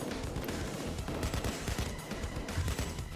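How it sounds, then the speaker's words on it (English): Enemy gunfire in Payday 2 during a forest heist, a continuous rattle of distant overlapping shots under steady game noise, fairly faint. "They're stopping to shoot at you."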